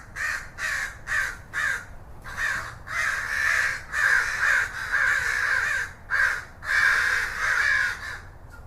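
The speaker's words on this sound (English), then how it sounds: "a huge flock of shiny black crows suddenly flew up into the sky, squawking loudly" A large flock of black crows caws loudly near a big mango tree, harsh repeated calls in bursts and overlapping runs, some short and separate, others merging into continuous squawking as the birds take flight.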